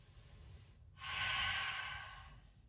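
A single long, soft exhale during yoga with knees drawn to the chest, a faint sniff before it, then a breathy sigh swelling and fading in a quiet room.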